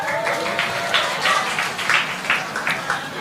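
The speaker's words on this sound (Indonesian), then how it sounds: "tepuk tangan buat pacar saya lah." Audience applause at an Indonesian stand-up comedy roast show, a moderate burst of clapping with a few louder swells, heard alone at mid distance.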